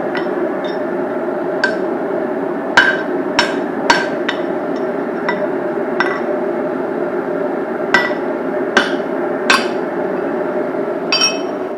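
A hammer strikes hot steel while a hammer face is forged, giving sharp, ringing metallic blows at an irregular pace over a steady background hum, close and loud, with no talking.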